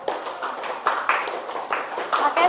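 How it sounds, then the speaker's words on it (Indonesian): A classroom of students gives a short round of applause for a presenting group, with bursts of clapping that come in uneven waves over a couple of seconds, close and fairly loud. "Oke, tepuk tangan ke kelompok 3."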